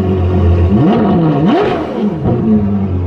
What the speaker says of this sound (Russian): сделали этой машине самый крутой выхлоп, который я когда-либо слышал в своей жизни